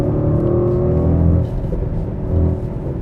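Mercedes-AMG GLE 63 S Coupe with a 603 hp engine accelerating from inside the cabin, a deep, loud rumbling drone that builds, eases briefly, then surges again.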